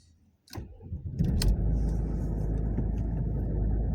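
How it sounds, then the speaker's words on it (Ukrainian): An Audi A4 B6 2.5-litre 180 hp diesel engine cold-starts at minus 11°C, cranking briefly and catching, then settling into a loud, steady, rumbling idle close by. "Холодний запуск. мінус 11."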